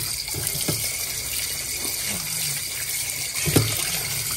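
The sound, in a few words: washing tilapia fish under running tap water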